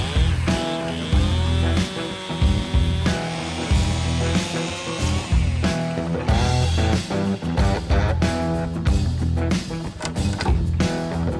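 A chainsaw cuts through wood while a house is being framed, its engine snarling loud and close in a steady drone that surges and bites in repeated bursts, with no voices over it.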